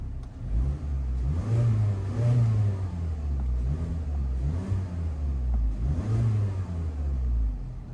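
A 2020 Mazda CX-30 engine revs repeatedly, with several rising and falling throttle blips over a steady mid-pitched idle, heard fairly close with no talking.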